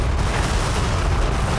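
Propane gas escaping from a cylinder, of the kind used in restaurant kitchens, ignites in an explosion; a loud, sustained, dense roar of fire fills the whole short stretch without a break.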